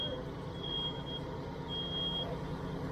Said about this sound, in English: That smoke detector went real quick.